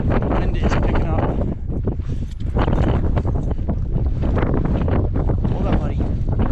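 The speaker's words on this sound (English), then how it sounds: "The wind is picking up." Strong wind on Franconia Ridge near Mount Lafayette on the Appalachian Trail, a loud, steady roar buffeting the microphone close up, with faint voice-like sounds mixed into the gusts.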